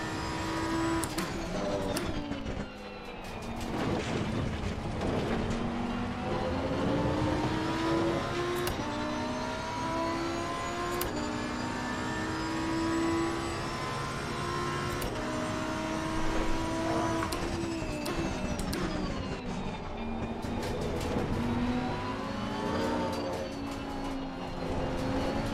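Race car engines from a Ferrari in an Xbox racing game drone and rev continuously, pitch rising and falling through gear shifts, with another car's engine passing nearby.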